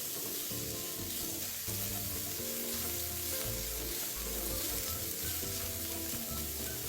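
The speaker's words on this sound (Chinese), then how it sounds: "加入3朵预先切成丁的香菇，一起炒香。" Diced shiitake mushrooms stir-fried with sliced golden shallots in three tablespoons of oil over medium heat: a steady, close crackling sizzle with stirring, under background music.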